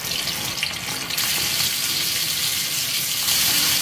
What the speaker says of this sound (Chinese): 全程中小火慢慢的炸，把鱼肉炸酥炸脆，吃了才香。